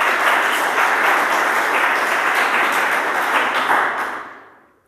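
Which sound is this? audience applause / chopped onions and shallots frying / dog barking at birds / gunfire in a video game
audience applause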